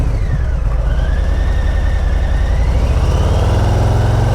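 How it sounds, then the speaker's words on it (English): A Harley-Davidson Low Rider S with stock exhaust idles steadily and loudly up close, a low rapid putter with a faint rising whine as the revs climb slightly. "the exhaust sounding like a sewing machine"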